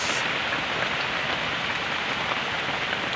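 Heavy rain pours down in a dense, steady hiss of drops hitting surfaces, close and loud for the whole few seconds, with no voices.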